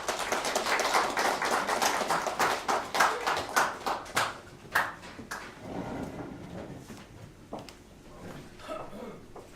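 Audience applause at a book launch event, starting as dense, lively clapping from many hands, then thinning over several seconds into a few scattered claps before fading out.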